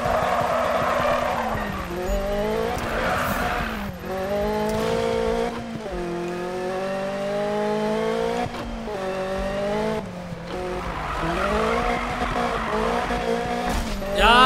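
A car drifts in the Need for Speed racing game, its engine droning in rising and falling revs while the tires squeal in long sustained screeches, loud and continuous across the whole stretch.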